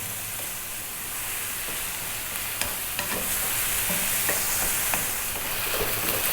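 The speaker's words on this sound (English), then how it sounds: "we're going to continue cooking for another 5 or 6 minutes, and we're going to be stirring quite often" Spiced meat with salt and turmeric fries in a pot for an Ethiopian siga alicha fitfit. A loud, constant sizzle hisses throughout, and a few soft stirring taps and scrapes come through near the middle.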